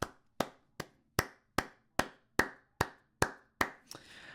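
A single pair of hands claps ten times in a steady, even rhythm, sharp and close in a quiet room, followed by a brief rustle.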